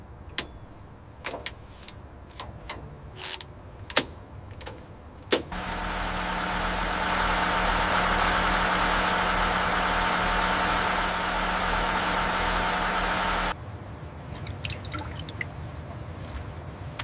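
After several sharp clicks and drips, a rebuilt Sunseeker yacht engine starts and runs steadily for about eight seconds with a smooth humming drone, then cuts off, leaving scattered clicks.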